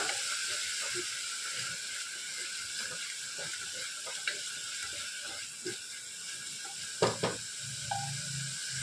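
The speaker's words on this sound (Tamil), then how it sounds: "இப்போ இஞ்சி பூண்டு பேஸ்ட்டு ஒரு ஒன்றரை ஸ்பூன் இருக்கும் பச்சை மிளகாவும் சேர்த்து அரைச்சனால ஒன்றரை ஸ்பூனு அதையும் சேர்த்து நல்லா பச்சை வாடை போகிற அளவுக்கு வதக்கிடலாம்" Onions sauté in oil with ginger-garlic paste and green chilli for a millet vegetable biryani, a soft, steady sizzle close by, broken by a few light clinks and stirring knocks near the end.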